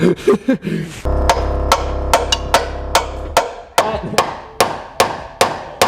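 A hammer strikes repeatedly, knocking a pilot hole into a frame, a dozen or so sharp, ringing blows at a steady pace, close by and loud, with a low hum under the first half.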